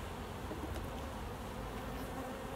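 Honey bees drone at an open hive in a faint, even, continuous buzz, close and unbroken for a few seconds.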